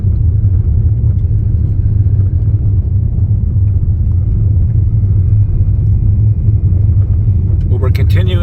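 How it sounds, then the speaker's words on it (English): A vehicle rolling along a well-maintained gravel road in remote northern Ontario north of Pickle Lake, giving a loud, continuous low rumble with tire noise throughout. "We have hit a gravel road now, and it looks pretty well maintained."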